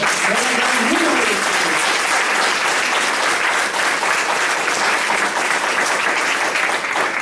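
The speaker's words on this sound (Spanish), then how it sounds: "Dale un fuerte aplauso al Señor." A church congregation claps loudly and steadily at a Spanish-language service, a thick unbroken wash of applause from many hands with voices faintly mixed in.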